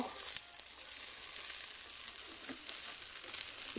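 Steady, bright sizzling of potato dal frying in a hot pan, continuous throughout with occasional soft scrapes from stirring.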